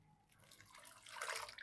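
Water poured into a pan of simmering lentil dal, a brief soft splashing rush that swells over a second or so, faint and close with no voices.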